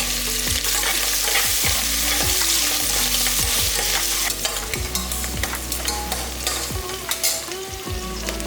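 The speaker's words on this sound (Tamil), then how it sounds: "அப்போ நமக்கு வெங்காயம் நல்லா வதங்கிடும்." Sliced onions sizzling in hot oil for kuska, with a steady loud frying hiss punctuated by repeated sharp scraping knocks of a spoon stirring against the pan.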